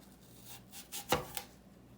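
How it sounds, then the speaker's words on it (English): A freshly sharpened knife slices through an apple, a few quiet crisp cutting strokes with one sharper snap of the blade reaching the board, close up and alone. "So nice and sharp, cutting right through the apple."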